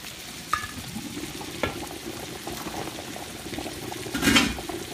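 A seafood boil bubbles and stirs in a pot, a steady wet churning with sizzling hiss and occasional louder splashes or clinks, close by with no talking.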